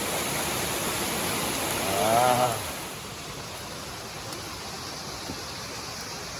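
Steady broadband rush of the mossy Chilpok waterfall on Gariwangsan mountain fills the whole clip, with a brief voiced exclamation partway through.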